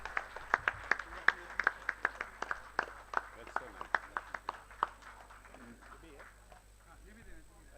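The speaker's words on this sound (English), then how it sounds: "Ladies and gentlemen, let's applaud for Mr." Scattered, sparse clapping from an audience at a golf tournament prize ceremony at Digboi Golf Links in Assam, a few dozen distinct claps fading out over several seconds, with a faint steady hum beneath.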